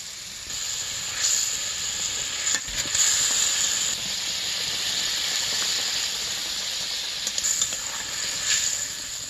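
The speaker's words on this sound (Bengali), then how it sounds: "এখন আমি ভেজে রাখা মাছগুলো দিয়ে দিব" Fried mock fish pieces, made without any fish, sizzling in spiced masala in a pan: a steady broadband hiss runs throughout, with a few louder spitting bursts near the start and end, alone with no talk.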